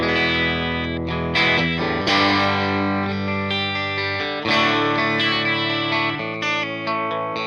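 Electric guitar in a clean tone on the bridge pickup, played through a Fender Blues Jr amp fitted with a WGS Black and Blue Alnico speaker: bright strummed chords and picked notes with effects shimmer, steady and close, with no talk.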